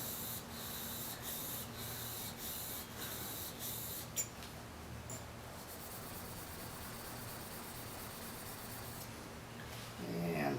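A spokeshave blade's bevel is honed on a sharpening stone in a figure-8 motion, giving a soft, continuous scraping rub, close and quiet, with brief clicks and a louder scrape near the end.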